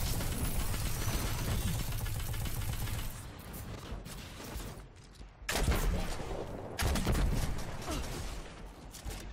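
The player's gun fires in the video game Destiny 2, rapid bursts of loud automatic shots in long stretches broken by short gaps, with no talk.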